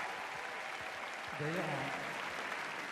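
Crowd applause at Roland-Garros for a Gaël Monfils tribute, continuous dense clapping heard under someone speaking.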